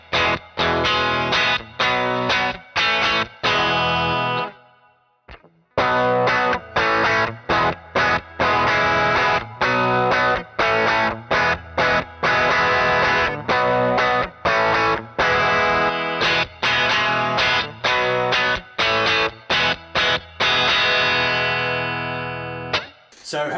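Electric guitar with Fender humbucker pickups, made in Mexico, played through distortion and effects, giving a dark, odd tone: dense chords and riffs ring loud and continuous, with a brief drop near five seconds and no talking.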